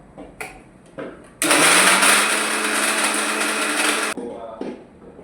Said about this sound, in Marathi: so firstly I will grind without एडींग water